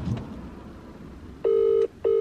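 Steady, loud telephone tones sound during an outgoing phone call, with two long, evenly pitched tones separated by a short gap after some faint background noise; no talking is heard.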